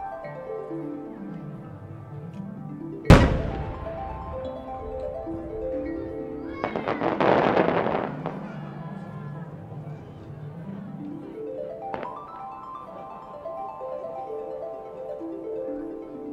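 Fireworks at the autumn Motegi fireworks festival, a green Matsushima night-view piece by Niigata Enka Kogyo, give one sharp boom followed later by a burst of dense crackling, all under loud background music.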